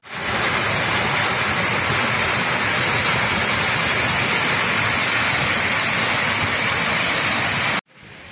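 Water gushing and bubbling out of the Bhulbhule spring at Nerpa, Khotang, a steady loud broadband rush held constant for nearly eight seconds before cutting off abruptly.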